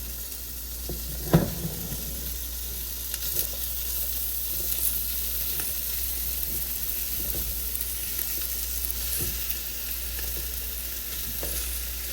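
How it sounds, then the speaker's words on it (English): Kielbasa fries in oil in a pot with a steady, close sizzle throughout. A spoon scrapes and stirs the pot now and then, and there is no talking. "Give this a stir so the grease can get all over your kielbasa"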